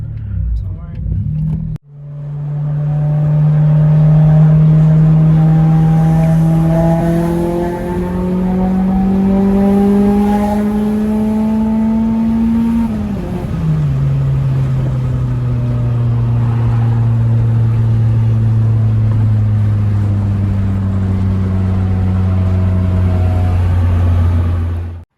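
A Honda Prelude with an F20B engine and PLM headers revs and pulls through the gears on a drive, its tone rising and dropping with each shift, loud and close, with no talk over it.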